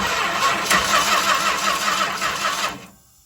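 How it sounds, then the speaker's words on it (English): The engine of a 1964 Chrysler Newport is cranked by its starter, a loud, steady, rhythmic churning close to the microphone that continues for nearly three seconds before cutting off abruptly. "But do we get spark when we crank the engine?"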